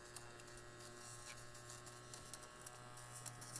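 A steady, quiet electric buzz with a constant motor hum and faint scratchy crackles from a small electric lint remover rubbing over fabric.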